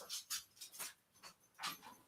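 A dog panting in quick breathy bursts with faint whimpers, close and soft, in an otherwise quiet room.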